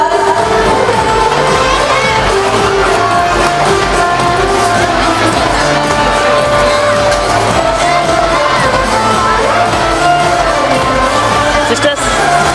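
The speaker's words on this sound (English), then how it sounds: "Everyone please keep cheering for them" At a school jubilee honoring teachers, a large crowd cheers, whoops and shouts loudly and continuously, with children's voices, clapping and music mixed into a dense, lively roar.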